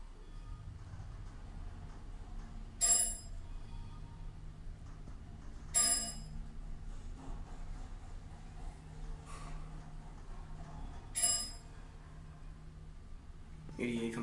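Chime of a Dover traditional traction elevator at a Niagara Falls parking ramp, sounding three times at a steady interval as bright bell tones over a low machinery hum.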